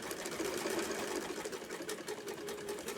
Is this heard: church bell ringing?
no